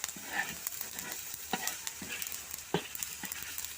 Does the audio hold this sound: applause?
no